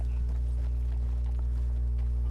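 Horse hooves clip-clop in a video game, a steady run of soft hoof falls under a constant low drone, with no other sounds standing out.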